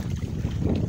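Wind buffets the microphone in a steady low rumble aboard a fishing boat heading out on Lake Manguao, with no voices over the blustery noise.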